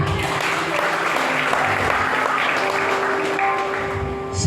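Church congregation applauding during a healing revival service, a steady dense wash of clapping filling the hall throughout, with sustained tonal music or voices running underneath.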